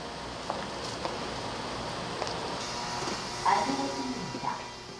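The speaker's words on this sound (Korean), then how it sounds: "승객 수송을 마친 열차가 종착역에 들어온다." A Busan subway train rumbles steadily into its terminal station, with a low rolling drone, faint metallic squeals and clanks near the end.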